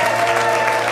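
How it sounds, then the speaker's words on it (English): Audience applause at a Saturday night stage show, a dense, steady wash of many hands clapping, close and fairly loud, filling the whole short moment with no voices over it. "Give a big round of applause"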